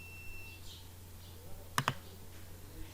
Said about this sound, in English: So click on OK